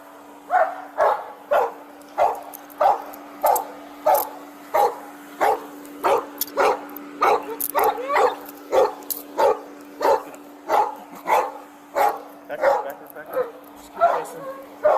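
A dog barks repeatedly in a steady rhythm, loud and close, with some yips mixed in over a constant mechanical hum; people talk in the background.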